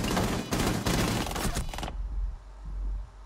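Rapid bursts of close, loud gunfire rattle through a competitive round of a first-person shooter on the Coastline map, a dense volley of shots that cuts off abruptly, leaving low rumbling ambience.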